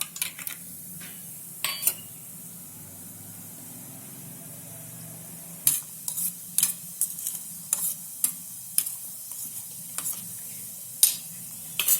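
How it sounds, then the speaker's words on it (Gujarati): Cashews frying in oil for a puffed-sorghum and puffed-rice chevdo, a soft, low sizzle under sharp, intermittent clinks and scrapes of a spoon against the pan. "હવે આપણે કાજુ તળી નાખશું"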